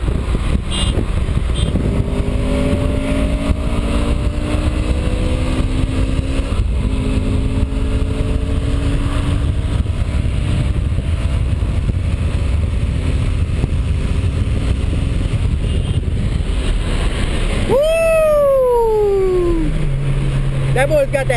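A racing car engine revving hard at a race, a loud continuous drone whose pitch climbs and falls in long sweeps, ending in a sharp high rev, with voices faintly in the background.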